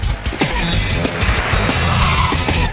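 An electric car driven hard around a track, tires squealing and skidding in repeated bursts over a loud, steady road roar, with no voices heard.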